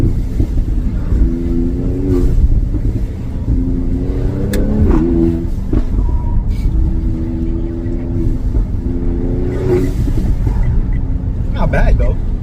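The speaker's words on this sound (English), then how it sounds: "The sound sounds like the air is coming out slow and the valves are closing slow." A 2021 AMG GLC 43 with an M276 engine and an installed blow-off valve revs up repeatedly and nearby. Short airy whooshes follow the revs, releasing slowly, while a person talks throughout.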